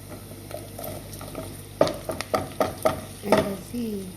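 Chopped onion frying in a pan for chicken noodles, a soft steady sizzle broken by a series of sharp stirring clacks from a utensil against the pan, close and clear.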